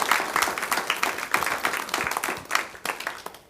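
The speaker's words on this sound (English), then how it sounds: "one more round of applause" An audience applauds after a skin-health talk for older adults, a burst of many hands clapping at a moderate distance with an uneven, crackling rhythm that thins out toward the end.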